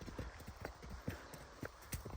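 Hooves of a mare with her foal clip-clop in an uneven rhythm, a series of sharp knocks close by against faint background noise.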